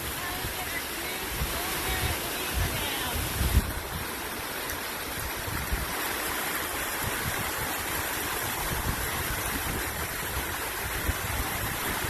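Water rushing over a large dam roughly four feet tall, a steady loud broadband roar like a waterfall, heard close and continuous throughout with no clear talking.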